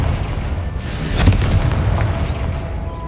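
A Confringo fire spell detonates in the Hogwarts Legacy video game, a single loud booming blast with a rumbling tail that fills the short clip.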